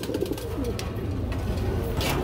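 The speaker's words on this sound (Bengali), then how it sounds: "আরেক জোড়া কবুতর খুবই চমৎকার ভাবে ডাকাডাকি করতেছে" Pigeons cooing steadily, low throaty coos repeating close by over a constant background murmur.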